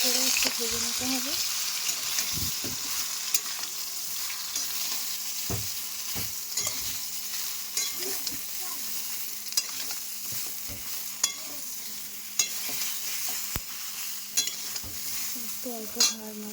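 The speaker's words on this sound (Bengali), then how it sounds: "একটু অল্প নাড়াচাড়া করে ভাজা হয়ে গেলে" Mango pieces being stirred as they fry in a wok, with a steady sizzle punctuated by repeated sharp spatula scrapes and knocks against the pan, close and clear.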